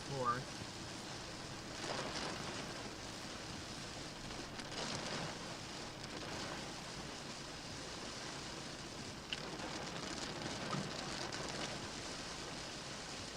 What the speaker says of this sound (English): Oh yeah, it's raining its ass off.